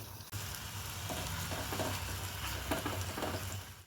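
Oats tikki patties are set one by one into hot oil sprinkled with white sesame seeds, giving a loud, steady, close sizzle and crackle throughout with no talking.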